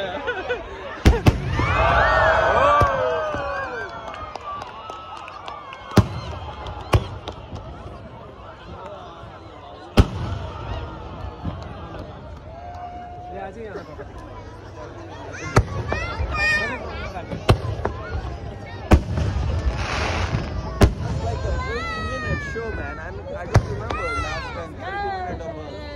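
Fourth of July fireworks going off in Foster City, sharp bangs and pops scattered through the clip with crackling bursts, over a steady crowd hubbub and people chatting nearby.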